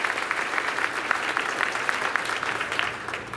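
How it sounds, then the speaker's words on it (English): A crowd at a high school senior chapel gives a round of applause, with dense, even clapping held steady throughout. "So I have a round of applause for that too."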